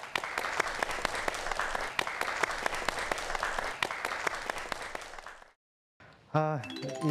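A studio audience applauds steadily for about five seconds at a Korean TV lecture taping, the clapping dense and even before stopping abruptly; after a short silence, a bright chiming jingle plays.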